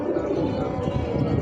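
Pigeons on a rooftop, a brief soft cooing close by over a low background murmur.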